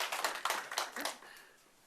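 Brief burst of hand clapping from a small lecture audience, a few close, crisp claps that quickly thin out and fade within two seconds.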